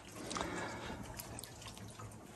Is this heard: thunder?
no